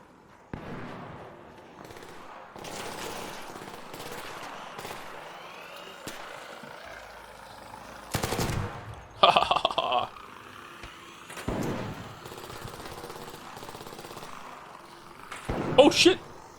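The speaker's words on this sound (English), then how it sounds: "Who's shooting?" Scattered gunfire in the extraction shooter Arc Raiders, a few loud, close bursts and sharp shots breaking through a quieter stretch of distant rumble and ambient noise.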